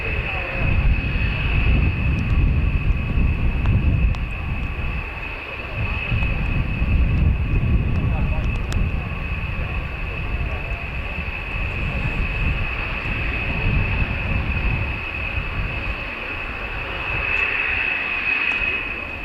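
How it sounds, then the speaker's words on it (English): An aircraft taxis at RAF Fairford, producing a steady, continuous engine roar and rumble with a sustained high whine, heard at moderate distance and holding fairly even throughout. "Something's taxiing."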